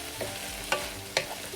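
Vegetables for fried rice sizzling in a pan, a soft steady fry with a few sharp scrapes of a spatula stirring them, close up and quiet, without any voices.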